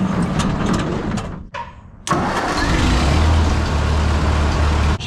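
A cold truck engine cranks over, cuts out briefly, then fires and settles into a loud, steady idle close by, with no talking over it.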